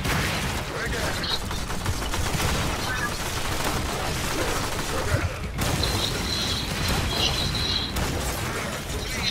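Rifle gunfire in Warframe crackles steadily through a dense, chaotic combat mix of repeated shots and bursts, with a brief dip midway, while players talk over the action.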